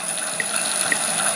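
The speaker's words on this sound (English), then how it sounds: "Are splashing around with cold water in the bathroom." Water splashing in a bathroom in the 1996 PC game Max and the Haunted Castle, a steady, bright running-water wash with a few small splashy bursts, continuous and fairly close.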